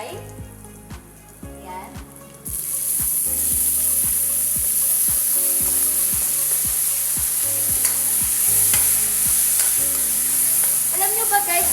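Vegetables for pinakbet hit a hot pan and burst into loud, steady sizzling and frying that continues throughout, with stirring clinks and a brief spoken word near the start.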